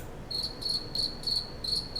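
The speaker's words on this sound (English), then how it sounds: "Not the crickets." Cricket chirping sound effect: five evenly spaced bursts of sharp, high trilling, clear and fairly loud with no other sound.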